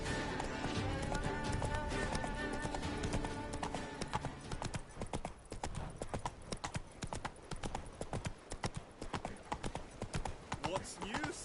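Horse hooves galloping in The Witcher 3, a brisk repeating clip-clop that grows sharper and more distinct after the first few seconds, mixed with background game music.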